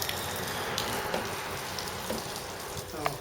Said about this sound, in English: It's raining as usual here in Manchester.